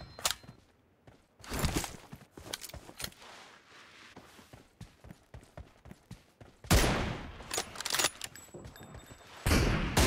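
BGMI gunfire comes in scattered bursts, some single cracks and some rapid volleys, close and loud against quieter thuds and footsteps, with heavier strings of shots near the end and no talk.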